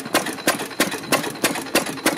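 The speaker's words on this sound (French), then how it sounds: "Alors, ce moteur-là, c'est un moteur Pilter." A 1916 Pilter engine at a threshing festival thumps along in a steady slow rhythm, regular loud beats about every third of a second, close by and with no voices.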